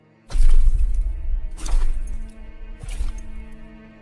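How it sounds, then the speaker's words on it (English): Footsteps splash through shallow water in a dark farm setting, three heavy, close sloshing steps about a second and a quarter apart, each trailing off into dripping and rippling. "I took a step in, my feet making small splashes in the water."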